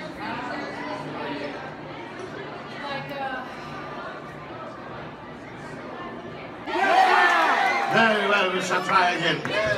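A crowd murmurs and chatters at a Medieval Times jousting dinner show in Buena Park, then bursts into a loud, sustained cheer with whoops and shouts.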